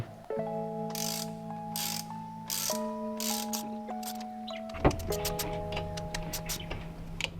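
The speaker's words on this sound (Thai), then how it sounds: "หลังจากใส่น็อตครบ 3 ตัวแล้วเราก็จัดทรงให้เรียบร้อย แล้วก็ขันให้แน่นได้เลยครับผม" Nuts on a Honda PCX 160 exhaust pipe are tightened with a ratchet tool, producing repeated close metallic ratchet clicks in short bursts, with steady ringing mechanical tones lingering underneath.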